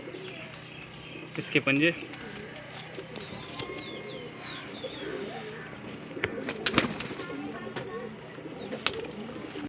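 Highflyer pigeons coo softly in a loft in Bareilly, Uttar Pradesh, their low murmuring steady beneath someone talking throughout, with a few louder bursts of bird noise and rustling scattered through.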